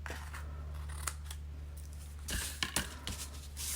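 Scissors snip through ribbon or paper for a handmade card. A few quiet cuts sit over a steady low hum, with a sharper cluster of snips near the end and no talking.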